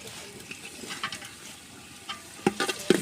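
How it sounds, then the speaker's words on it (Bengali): Oil, onion, green chilies and whole garam masala frying for biryani on a village clay stove, a gentle sizzle with soft clinks and scrapes of stirring near the end, no voices. "এখানে তেল পেঁয়াজ দিয়ে দিয়েছে আর এখানে কিছু কাঁচামরিচ আর গোটা গরম মশলা একসাথে করে দিয়ে দিলাম"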